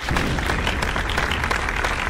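Loud, continuous applause from a large crowd, a thick even roar of clapping hands that holds steady from start to finish with no talking.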